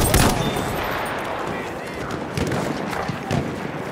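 Rapid gunfire bursts in Battlefield 1 on a noisy, crowded battlefield, with sharp repeated cracks and a dense roar of distant combat throughout, French-language soldier voices faintly mixed in.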